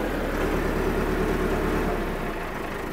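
A 125 hp 385 Extra VT tractor engine runs close and loud, a steady low mechanical drone that eases slightly toward the end.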